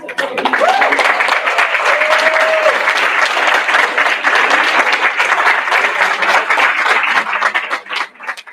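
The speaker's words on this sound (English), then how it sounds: "I want the graduates to applaud their parents and their families for the sacrifices that they took." Graduates at a medical residency graduation ceremony applaud their parents and families, a loud, dense wash of clapping from a large crowd that sustains steadily for several seconds before tapering off at the end.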